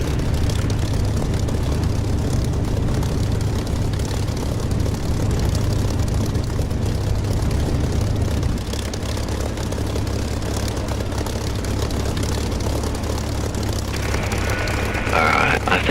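Aircraft engine in the DCS flight simulator game, a loud, steady droning roar that holds constant, then shifts slightly lower in tone partway through, with a brief higher whine near the end.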